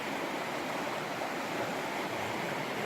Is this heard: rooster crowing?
no